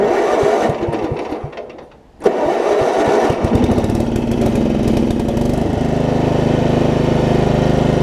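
A Craftsman (Murray) rear-engine riding mower engine cranks, stumbles briefly, then catches and runs loudly and steadily with choke applied, close to the listener with no talking.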